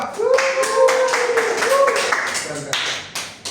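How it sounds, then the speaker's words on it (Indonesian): A classroom applauds group 2 with brisk, steady clapping that lasts a few seconds, while voices overlap the clapping. "Tepuk tangan untuk kelompok 2"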